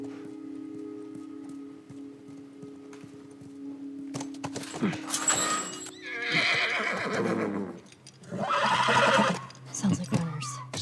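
A horse in The Last of Us neighs loudly and whinnies more than once, with hoof clops and movement nearby, while a voice murmurs faintly underneath.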